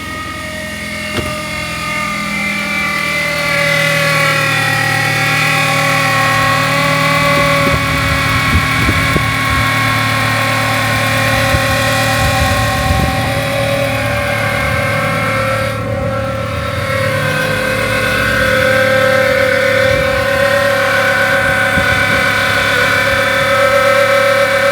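A car engine idles steadily and loudly up close with a sustained whine layered over the running, consistent with a belt rubbing.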